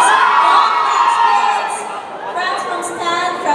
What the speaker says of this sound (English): That crowd screaming